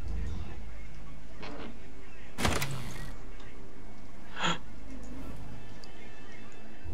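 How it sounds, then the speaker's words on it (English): A door opening inside the horror game Dead Realm, heard as a short, loud mechanical clunk and creak near the middle, followed by a fainter thump, over a low ambient hum. "Did you hear your door open, Shadow?"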